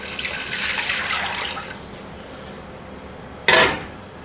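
Water runs and splashes steadily into a soup pot for a chicken gnocchi soup, fading after about two seconds, followed by a short, sharp clatter near the end.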